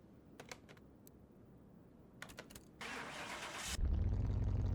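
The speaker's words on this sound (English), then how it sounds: "And it revs quite nicely. That is a nice sounding car." An Audi RS6 in Car Mechanic Simulator 2021 sputters through a brief crank, then catches and settles into a loud, steady idle, preceded by scattered clicking taps like keys or mouse presses; no talking.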